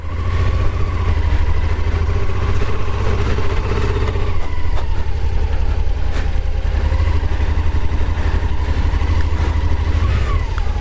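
Motorcycle engine running steadily and fairly loud on a ride across slippery grass beside a muddy track, with a deep continuous rumble and light clatter throughout, no talking.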